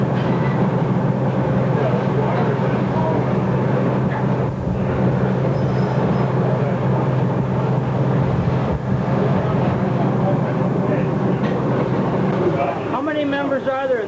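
A Southern Michigan Railroad train rolls along, heard from inside the bay window caboose, a loud continuous rumble with rattling and a brief voice near the end.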